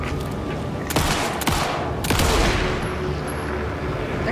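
Pistol gunfire in the video game Alan Wake 2: a few loud sharp shots near the 1, 1.5 and 2 second marks, each with a ringing tail, over a dense rumbling game soundscape.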